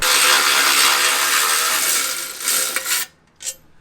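A ratchet works on a small skid plate on a Chevy Colorado ZR2: a loud, close, rapid clicking whir for about three seconds, then a few final clicks and a short metallic tap.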